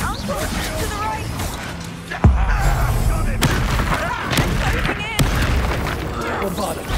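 A Bombarda spell explosion in the video game Hogwarts Legacy, a sharp booming blast that hits suddenly and rings out over steady battle noise and game voices talking.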